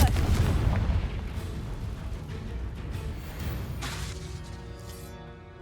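A Confringo fire spell explodes in Hogwarts Legacy, a heavy booming blast up front that rolls into a long crackling, rumbling tail fading over several seconds.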